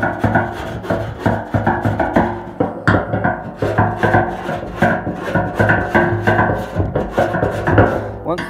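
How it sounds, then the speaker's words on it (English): Sandpaper wrapped on a screwdriver sanding the welded 1971 VW Beetle petrol tank: loud rhythmic back-and-forth scraping strokes, close and continuous, with no talk. "So my getaway is this sandpaper on a screwdriver."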